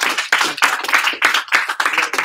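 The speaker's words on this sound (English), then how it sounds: "give them a big round of applause" A group in an office setting claps in rhythmic, pulsing bursts, close and loud, about seven clear beats of many hands striking together with no talk over it.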